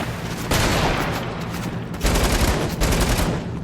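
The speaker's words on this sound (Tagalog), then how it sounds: "Ano na naman baril to? Ba't parang umuulit na yung mga baril?" Video game gunfire rattles in loud sustained bursts of rapid shots, two long volleys separated by a brief pause, dense and close.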